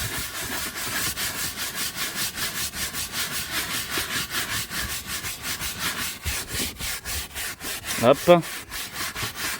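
Stiff brush scrubbing a car's fabric seat with upholstery cleaner, rapid rhythmic back-and-forth rubbing strokes close by, steady throughout with a brief louder scuff near the end and a short spoken word.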